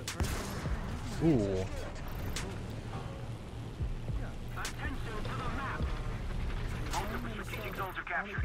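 Tank cannon fire in War Thunder around a Maus: a heavy boom early, then engine rumble and scattered distant shots and impacts at moderate level, with a voice talking over parts of it.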